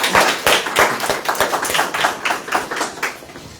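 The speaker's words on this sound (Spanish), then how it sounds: "Le damos un fuerte aplauso a la doctora Carlota Casalino" An audience bursts into applause for Doctor Carlota Casalino at an academic lecture on Peruvian foreign policy, giving dense, steady clapping that runs for several seconds with no talk over it.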